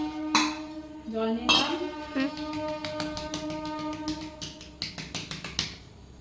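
Ceramic bowls and metal utensils clink and knock close by in a home kitchen, a string of sharp taps and rattles as water is put into a bowl, with a tonal ringing from the dishes throughout.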